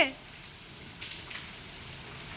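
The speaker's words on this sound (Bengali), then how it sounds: "বাইরে বৃষ্টি হচ্ছে" Rain falls steadily outside, a soft continuous hiss with occasional faint drips, and a brief voice at the very start.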